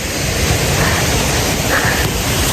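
Mae Sa waterfall in Thailand, a ten-tier cascade, pours as a steady broadband rush of water, loud and close, filling the whole moment without pause or voices.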